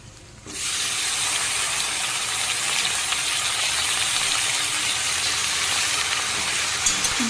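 Potatoes and carrots drop into a pan of browned onions, setting off a loud, sudden sizzle. The close, dense frying hiss then holds steady, with a few faint clinks near the end.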